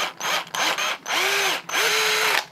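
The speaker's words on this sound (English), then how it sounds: "So I'm gonna drill a hole for the weight." A power drill bores a hole into a small fishing lure blank for a split-shot weight, in three close, loud whirring bursts with the motor pitch rising as each run spins up.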